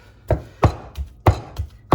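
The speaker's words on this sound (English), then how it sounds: "I'm chopping this because it's pretty tender right there." Tender smoked barbecue meat being chopped on a board, five sharp knife strikes landing in an uneven rhythm, close and fairly loud with no voices.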